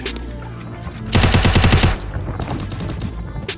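Rapid automatic gunfire from the video game Free Fire rattles out in a dense, loud burst, then continues as a second, slightly softer stretch of fast shots.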